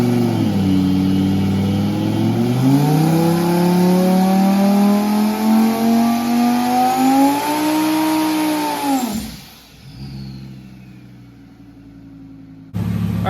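A twin-turbo Audi R8 engine revs hard and loud, pitch climbing and holding high before dropping sharply off throttle to a low idle.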